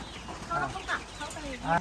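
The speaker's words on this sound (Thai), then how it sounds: "เขาเลี้ยงไก่บนนู้นครับ นี่ฮะ ไก่" Chickens cluck softly at a school farm during an outdoor student survival camp, several short calls scattered over faint background noise and distant voices.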